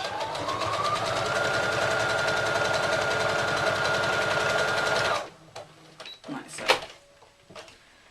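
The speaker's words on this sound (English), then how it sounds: "Now when I've stitched all the way around, cut off my thread" A sewing machine stitches around a fabric gift bag with a rapid, steady mechanical whir for about five seconds, then stops, and a few handling clicks and rustles follow.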